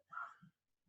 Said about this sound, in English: sorry if you can hear that dog across the street barking.